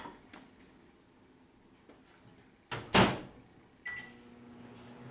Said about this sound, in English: I'm gonna put it back in the microwave for another 2 minutes.